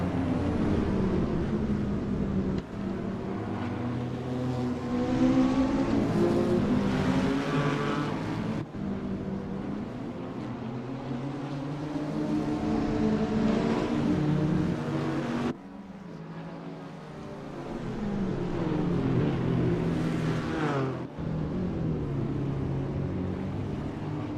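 GT4 race cars lap the Long Beach street circuit in the Assetto Corsa racing game, engines droning and revving in continuous rising and falling waves, with several sharp breaks between passes and no talk.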